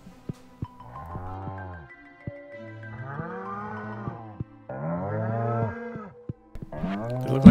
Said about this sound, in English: Okay, how are the cows doing?